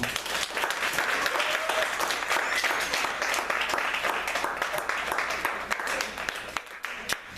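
A congregation at a church worship service gives dense, sustained applause that continues evenly throughout, with a faint murmur of voices underneath.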